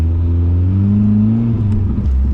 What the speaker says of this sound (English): Breaking in the new 500 horsepower build engine